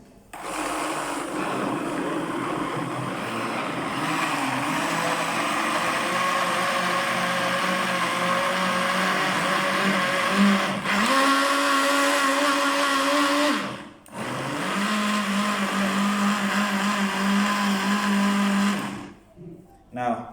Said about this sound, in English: we did not let this blender run for even more than 30 seconds.